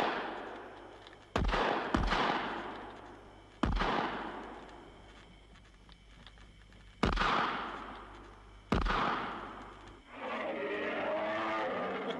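Rifle shots in a Slovak radio drama adaptation of Five Weeks in a Balloon, five sharp loud cracks spaced irregularly, each trailing into a long echoing decay, followed by a steady low rumble.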